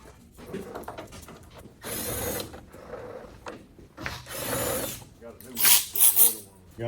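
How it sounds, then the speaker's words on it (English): A small 13 mm ratchet removing skid plate bolts on a damaged Chevrolet ZR2, with bursts of rapid close clicking and rubbing between pauses while people talk nearby. "I'm gonna grab my little ratchet."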